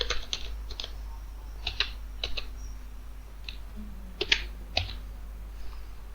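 Fingers tap a computer keyboard to enter an SAP T-code in clusters of crisp, close keystrokes with short pauses between, over a low steady hum.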